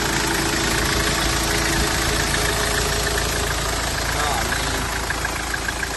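A 2004 Ford Everest 2.5 Limited engine idling, a steady close mechanical rumble with a slight knocking clatter, continuous and loud throughout.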